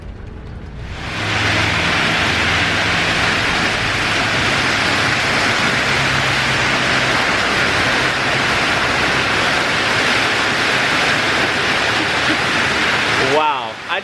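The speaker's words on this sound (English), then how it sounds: "The rain has started." Heavy tropical rain in Bali pours down in a loud, dense, steady roar during a scooter ride and drowns out everything else. It cuts off abruptly near the end.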